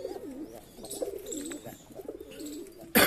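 Pigeons coo in a breeding cage for high-flying birds. Soft repeated rolling coos sound from close by, with a sharp loud noise right at the end.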